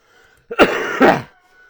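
Someone clears their throat with a short, dry cough, two close bursts in a quiet early-morning room.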